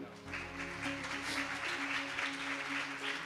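Congregation at a Guru Purnima Mahotsav gathering in Hariyala claps steadily to welcome devotees; the applause is soft and distant, running throughout beneath a faint sustained musical drone.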